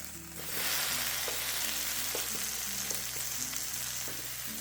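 A grilled cheese sandwich sizzles steadily in a hot pan, a loud continuous crackling hiss that swells up after a quiet start and holds, with no voices.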